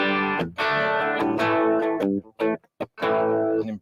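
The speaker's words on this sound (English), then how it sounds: "if I crank in a bit of distortion and I back it right off, I can have like a cool little tone" Electric guitar played through slight distortion with the volume rolled back gives a lightly driven tone, with loud strummed chords and short gaps between them.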